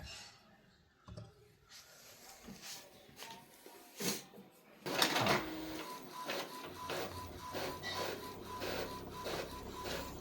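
An Epson L3260 inkjet printer feeds and prints a page, its mechanism whirring and clicking in repeated bursts that grow steadier and louder midway, with a faint tone running underneath.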